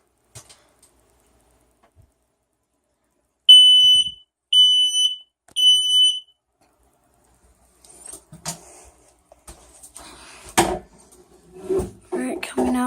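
A household smoke detector gives three sharp, high electronic beeps in an even rhythm. Knocking and handling thuds follow while the unit is taken down.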